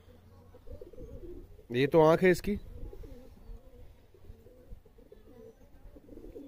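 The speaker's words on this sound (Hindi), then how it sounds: "तो कुछ ये तो कबूतर है" Malwai (Punjabi) pigeons coo in a brief burst of soft, rolling calls in the middle, with someone talking before and after and faint background noise throughout.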